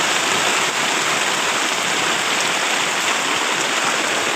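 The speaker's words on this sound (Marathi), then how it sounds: "आज किती दिवसातून पाऊस पडालाय. आवाज येतोय" Unseasonal heavy rain pours down on a shed, a dense, even hiss of drops on surfaces that continues without a break, close and loud.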